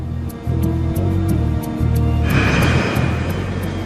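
Aircraft engines hum steadily at takeoff and then swell into a louder broadband roar partway through, with no voices heard.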